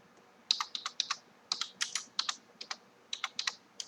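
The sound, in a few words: typing a command on a computer keyboard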